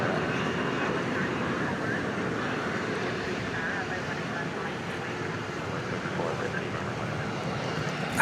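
Five-year-old Dreamliner jet departing DFW airport at night for Sao Paulo, a steady distant engine rumble and hiss running throughout, with a voice talking over part of it.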